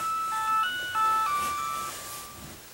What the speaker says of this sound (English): I hear the music.